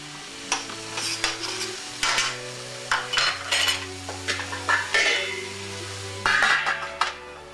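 Onions sautéing in a covered pan are stirred with a metal utensil, giving repeated close scraping and clanking strokes over a soft sizzle, with steady tonal background music underneath.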